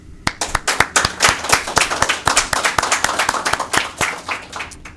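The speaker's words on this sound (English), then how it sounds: "First thing I want to say is you guys owe yourself a big round of applause." A graduating class claps and applauds together at a graduation ceremony, with dense, rapid hand claps holding steady and close for the whole stretch.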